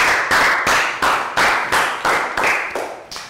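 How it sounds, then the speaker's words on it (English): A small classroom group claps in a short round of applause, roughly nine crisp, evenly spaced claps close by, with no talking. "Big round of applause."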